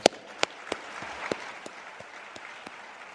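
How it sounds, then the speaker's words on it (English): Applause from a crowd at a sports broadcast event, a dense patter of clapping with a few sharp louder claps standing out, steady and moderately distant. "Let's give them a big round of applause."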